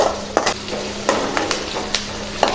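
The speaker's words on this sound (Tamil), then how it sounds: "இப்போ வெங்காயம் நல்லா வதங்கிருச்சு." Chopped onions sauté in a pan with a steady sizzle, while a spatula scrapes and taps against the metal in quick, irregular strokes close by.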